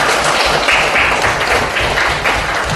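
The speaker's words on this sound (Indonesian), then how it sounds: "Beri tepuk tangan dulu yang meriah." A classroom of students bursts into loud, lively clapping for a group, the dense applause holding steady and close throughout.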